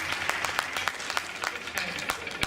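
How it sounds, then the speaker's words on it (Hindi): Applause from guests at a Holi celebration in a Hindu temple, brisk clapping with sharp individual claps standing out, accompanied by talk from the crowd. "जोरदार तालियां रश्मि जी के लिए और जोरदार तालियां आप सबके लिए"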